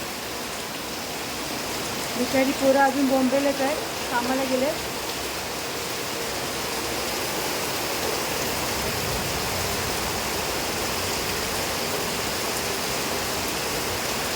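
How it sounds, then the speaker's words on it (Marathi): Heavy rain pours down in a steady, even hiss that fills the whole stretch, with a person speaking briefly near the start over the downpour. "पाऊस तर मोठा पडतोय"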